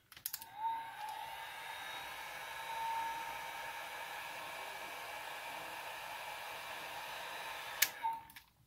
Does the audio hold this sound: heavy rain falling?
no